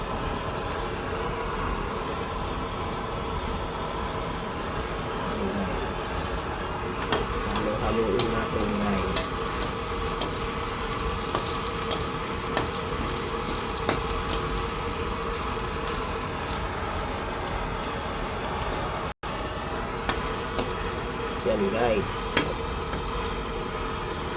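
Food frying with ginger in a pan gives a steady, moderate sizzle, broken by occasional clacks and scrapes of a utensil stirring, with a faint voice in the background.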